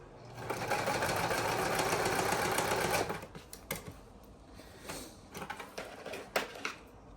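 A sewing machine stitches fabric for a cut-and-sew project, running loud and steady for about three seconds, then giving way to quieter intermittent handling clicks and rustles of the fabric and zipper.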